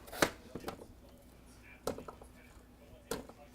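A knife chops potatoes into roughly one-inch chunks on a cutting board, a few sharp, fairly faint knocks spaced out unevenly, with a person talking between the cuts.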